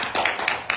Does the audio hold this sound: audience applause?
yes